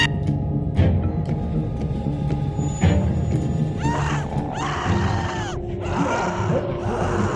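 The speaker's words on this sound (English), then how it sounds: "God, would she stop screaming?" A woman screams in The Walking Dead video game, letting out repeated anguished, wavering cries over tense music and background noise.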